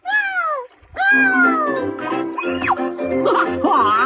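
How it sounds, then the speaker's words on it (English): A cartoon kitty meows loudly and close up, giving several drawn-out, bending meows and chirpy trills in quick succession with no talking over them. "Thanks for helping feed Goofy's little kitty"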